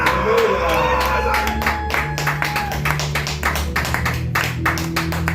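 A church congregation at a revival meeting claps and cheers for Jesus of Nazareth, a sustained crowd roar with steady rhythmic handclaps and scattered whoops, loud and close, with voices mixed in.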